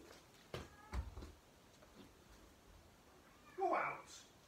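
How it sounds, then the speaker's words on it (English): A house cat gives a short meow near the end, faint and somewhat distant in a quiet room, after a couple of soft bumps and knocks. "I don't know if you can hear my cat, it's meowing"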